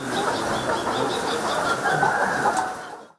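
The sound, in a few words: laying hens clucking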